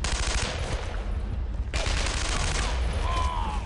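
Dense bursts of automatic gunfire and rifle shots from the World War II shooter Brothers In Arms: Earned In Blood, loud and continuous with a brief lull midway before the firing resumes.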